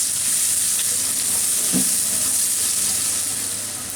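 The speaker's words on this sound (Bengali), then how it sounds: "এখন পেঁয়াজটাকে একটু বাদামি করে ভেজে নিতে হবে।" Chopped onions fry in hot oil in a pan, a loud, steady close-up sizzle with faint stirring scrapes that eases slightly toward the end, with no one speaking.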